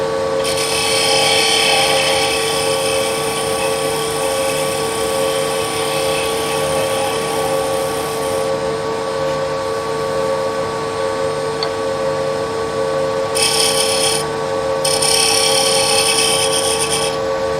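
A wood lathe spins steadily with a constant motor hum while a skew chisel scrapes and hisses against the turning wood of a finial in long continuous passes.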